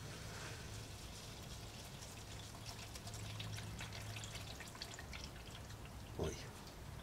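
A water and oil mixture drains from a Mustang coupe engine, a steady pouring trickle with faint dripping throughout and one brief clunk near the end.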